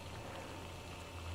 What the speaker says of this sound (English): we got a full rolling boil